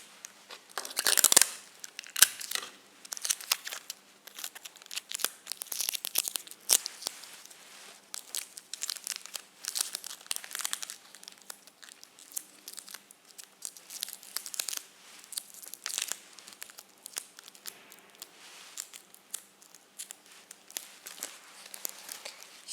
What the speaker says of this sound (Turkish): O yüzden kenarlarını küçük küçük bantlayarak oluşturmaya çalışacağız.